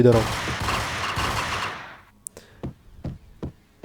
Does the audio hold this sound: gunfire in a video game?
yes